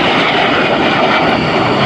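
A military jet airplane passes at an air show in Dayton, a loud, steady engine roar that sounds close and runs unbroken without any voices.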